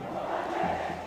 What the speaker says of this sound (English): you can see what that means to the Thomian crowd. The jubilation has set in.